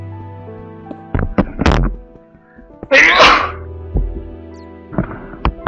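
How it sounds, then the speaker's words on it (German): A single loud, close sneeze in the middle, set among sharp thuds and clicks from Minecraft Tekkit Lite gameplay and a steady low hum. "So, kleiner Nieser."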